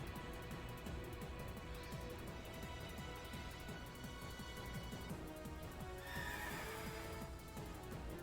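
A horse in the Pokemon Shield video game neighs and whinnies amid clip-clop hoof sounds and layered game music, fairly soft and continuous.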